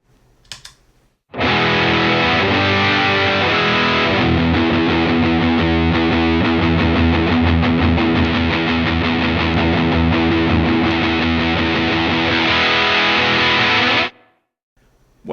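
Chugging electric guitar driven through a distortion pedal, loud and dense, played steadily for about thirteen seconds before cutting off, alone without any talking.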